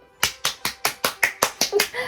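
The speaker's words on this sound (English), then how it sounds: "I have to like clap for myself." A single person clapping their hands nine times in a steady, even rhythm, each clap sharp, close and loud with a quick decay, and no other sound around it.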